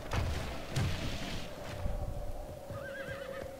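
A horse whinnies in a Tsardoms: Total War battle among horse archers, rising near the end of the clip over a busy mix of hooves, thuds and distant gunfire-like bangs, with no talking.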